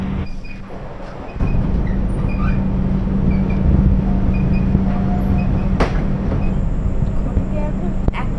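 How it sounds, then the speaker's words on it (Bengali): The 12517 Kolkata–Guwahati Garib Rath Express rumbles loudly as it pulls out of Bandel Junction, a steady heavy rolling drone that rises after a quieter opening second, with a faint high squeal and occasional clanks. "আর এর সাথে ব্যান্ডেল জংশন ছেড়ে দিল"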